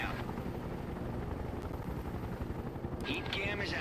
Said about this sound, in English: Scout chopper available